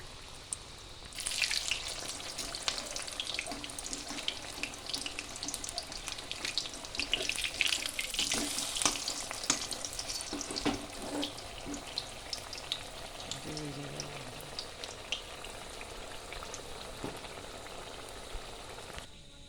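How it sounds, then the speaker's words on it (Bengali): Oil pitha, fried rice cakes, sizzling and crackling steadily in hot oil in a wok, a dense continuous fry with brief clinks partway through and no talk. "তো দেখো মা আবার কড়াতে দিয়ে দিয়েছে তেলের পিঠে"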